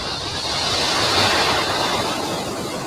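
A SpaceX rocket launch sends up a loud, steady broadband roar that stays at full strength from start to finish, with no voices over it.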